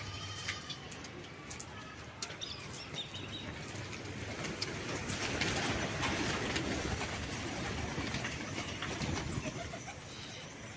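Fancy pigeons flying and cooing around a rooftop loft in Hyderabad, with faint wing flutters and soft coos over a continuous breezy outdoor background, distant and quiet throughout.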